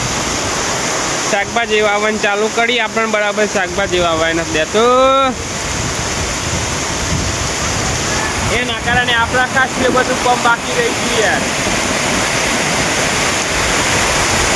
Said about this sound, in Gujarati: એટલો વરસાદ પડી ગયો જો